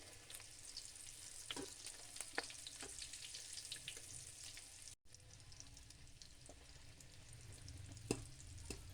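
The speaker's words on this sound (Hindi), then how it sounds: "हल्की आंच पे आपने इनको आराम आराम से फ्राई करना" Mash dal snacks deep frying in oil over a low flame, a steady soft sizzle and bubbling with scattered crackles and pops, close but fairly quiet.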